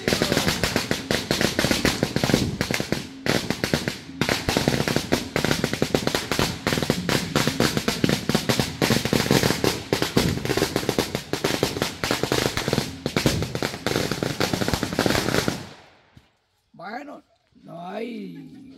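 Long, dense strings of firecrackers crackle and pop loudly and nonstop at a Father's Day celebration in Volcancillos, Cubulco, Baja Verapaz, Guatemala, then cut off abruptly, leaving brief quiet with voices talking.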